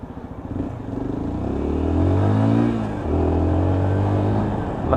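A Lexmoto Assault motorcycle accelerates hard along a road, its engine note rising steadily through the gears with a brief dip at a shift, loud and close with wind and road noise around it.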